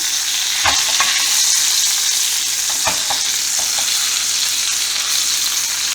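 A thick tomahawk ribeye steak sears in a hot pan, a loud, dense, continuous sizzle close up, broken by a couple of brief scraping knocks from handling the meat.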